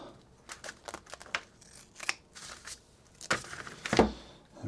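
Scissors snip several times through material being trimmed off a handmade shoe, crisp close cuts in an irregular rhythm with soft rustling between them.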